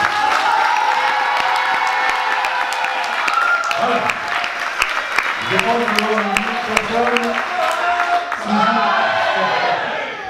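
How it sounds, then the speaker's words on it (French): A festival closing ceremony crowd breaks into loud applause with cheers and whoops, sustained clapping running throughout while someone speaks over it near the end. "vous pouvez faire un tonnerre d'applaudissements"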